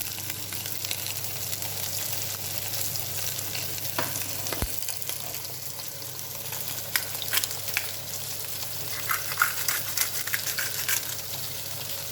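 A seasoned fish fillet, salted and peppered, pan-fries skin side down with a steady, close sizzle and crackle, brief spatters rising over the continuous hiss.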